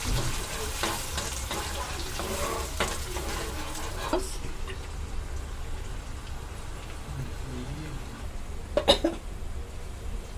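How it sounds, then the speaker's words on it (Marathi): Tomato and chili paste sizzling and frying in hot oil in a pan, a steady close crackle with a few louder spatters and stirring knocks, no talking. "आता हे वाटलेलं टमाटर आणि मिरचीची पेस्ट आपण याच्यामध्ये टाकू."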